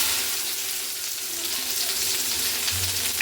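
Okra dropped into hot oil sizzles and fries with a dense, steady hiss, close and continuous with no talking.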